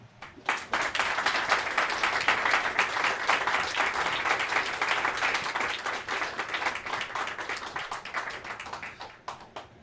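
An audience at a poetry reading celebrating Luciano Iacobelli breaks into sustained applause. Dense, steady clapping holds for most of the stretch, then thins and fades near the end, with no talking over it.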